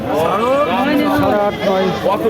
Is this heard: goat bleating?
yes